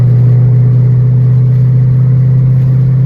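A Ford Mustang GT500 with long-tube headers, an X-pipe and Flowmaster Outlaw exhaust holding steady at 2,000 RPM, giving a loud, constant low drone with no talk over it.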